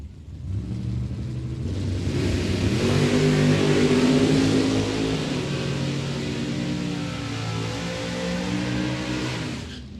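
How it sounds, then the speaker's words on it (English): Jason Jensen's drag car launches and accelerates down the strip at Mid Michigan Motorplex, a loud sustained engine roar rising in pitch as it pulls away, steady and unbroken for several seconds. "Jason Jensen's car."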